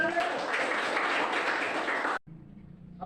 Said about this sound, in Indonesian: Berikan tepuk tangan dulu ya